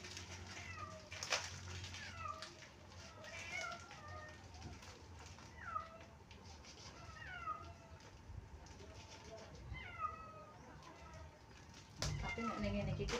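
A cat meows repeatedly in short, evenly spaced calls, fairly close, over a faint, steady background hum.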